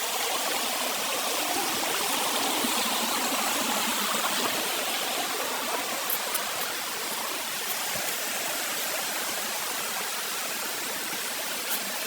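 A stream rushes steadily past a natural bathing spot, a dense, continuous wash of flowing water heard up close with no talking.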